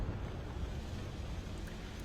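Nuclear rocket engines firing in Kerbal Space Program, a steady low broadband roar like wind or rushing water, fairly quiet and unbroken throughout with no voices.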